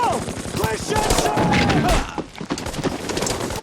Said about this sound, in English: Bullets whizzing past you in every direction.